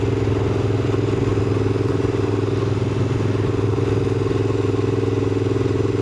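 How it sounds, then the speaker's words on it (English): Motorbike cruising steadily in third gear, its engine a constant loud drone with a close, even rumble throughout and no voices. "you gotta love riding motorbikes"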